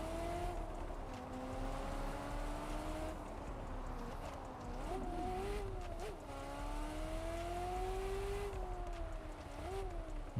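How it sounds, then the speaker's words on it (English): A high-revving Ferrari F40 engine in the video game Test Drive Unlimited Solar Crown climbs and drops through gears, its whine rising and falling repeatedly with continuous droning. "the F40, one of the best sounding cars in the game"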